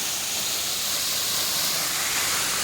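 Waterfall at a river, a loud, steady rushing roar of falling water filling the whole scene, constant and close with no talk.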